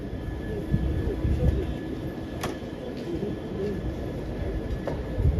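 Train at Preston station in Lancashire, heard as a steady low rumble of rolling stock and station ambience, with faint clicks and brief higher squeals over the continuous hum.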